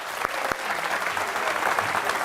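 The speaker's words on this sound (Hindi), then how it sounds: "चलो एक बार इनके लिए ताली बजाओ।" An audience at a yoga demonstration breaks into steady, dense applause, a continuous patter of many hands at moderate distance, with a couple of sharper claps near the start.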